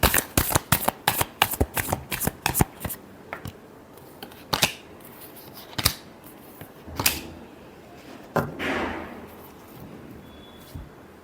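Tarot cards being shuffled by hand, a quick series of crisp riffling snaps followed by slower, separate card slaps and a final soft sliding sweep, close and clear with no talking.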